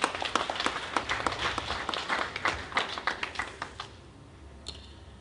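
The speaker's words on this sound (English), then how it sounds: "Give yourself a hand of applause," Scattered clapping from an evening book-launch audience, individual claps distinct and fairly close, thinning out and fading after a few seconds.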